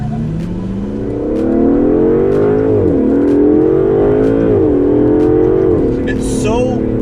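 An Aston Martin DBS Superleggera accelerates hard on a test drive, its engine note climbing steadily through two brief gear-change dips, loud and close from inside the car, with a short excited shout near the end.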